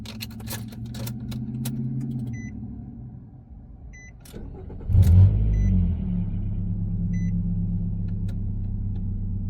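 A 2013-2017 Nissan NV2500 van is started with a newly programmed key: a few short beeps and a brief crank, then the engine catches with a loud burst and settles into a steady close idle rumble.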